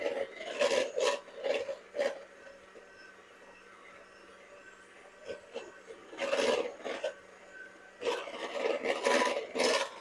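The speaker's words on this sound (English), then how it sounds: "You want to take your spatula and get the sides mixed down into the pumpkin" A spatula scrapes around a bowl of pumpkin cookie dough, folding the sides down in several rough, rasping strokes that come in short clusters with quiet gaps between, close and fairly soft with no talking.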